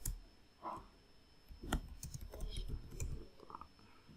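Soft clicks of typing on a computer keyboard while entering a Linux terminal command, an irregular run of light taps with a few sharper keystrokes, close by and quiet, no talking.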